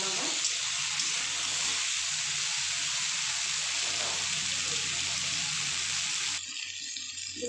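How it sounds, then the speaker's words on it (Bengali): Potatoes and taro frying in oil, a steady broadband sizzle that holds evenly throughout, close and fairly loud, then drops off abruptly near the end. "আলু আর কচুগুলোকে আমি একটু ভালো করে তেলের মধ্যে ভেজে নেবো।"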